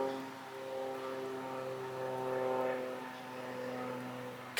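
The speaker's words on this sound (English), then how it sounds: "Airplane." An airplane passes overhead, heard as a faint, steady droning hum in the distance that swells slightly and fades, with no other sounds.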